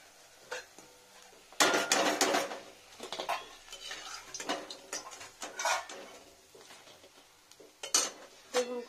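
Cauliflower pakoras being lifted out of hot frying oil and strained, with close metal-on-metal scraping and clinks of a slotted spoon against the pan, irregular and busy, the oil faintly bubbling underneath.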